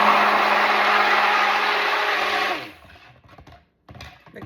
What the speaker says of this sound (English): just blend up the additives that are in here, which is the colloidal oatmeal, kaolin clay, and the coconut milk and coconut cream